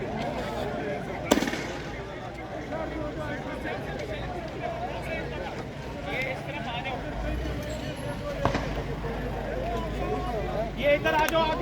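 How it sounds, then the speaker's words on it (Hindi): Police firing tear gas shells at a protest crowd in a city square: a few sharp, loud launch bangs stand out over constant crowd noise and shouting, with people talking throughout. "जो आंसू गैस है वो फायर किए जा रहे हैं पुलिस के जानिब से"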